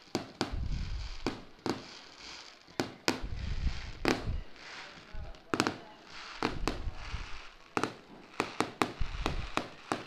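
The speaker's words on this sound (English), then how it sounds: "as the fireworks go off" Fireworks burst after a high school football game, a string of sharp, loud cracks and booms at uneven intervals with crowd noise rumbling between them.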